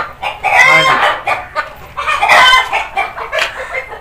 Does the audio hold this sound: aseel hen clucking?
yes